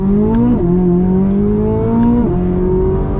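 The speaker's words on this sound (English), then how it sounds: "you instantly are blown away by the sound and responsiveness of this V8" 2023 Corvette Z06 V8 engine droning steadily while driving on the road, loud and close from inside, with two quick pitch drops as gears shift before the tone climbs again.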